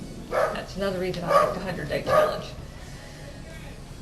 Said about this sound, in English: Apologies about the dogs, they bark at people they know.